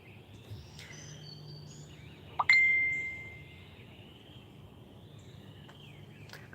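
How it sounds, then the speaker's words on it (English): A single bright phone notification ding sounds once on a front porch, clear against quiet outdoor background hum with faint insect or bird chirps, then fades out slowly. "I keep getting dings too."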